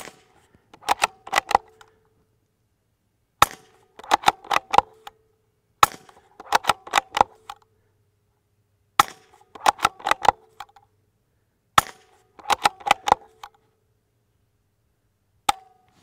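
Suppressed rifle shots through a titanium KGM Swarm 22 silencer, each sharp crack followed by a rattling echo off the dirt berm, with about six bursts spaced a few seconds apart at close range.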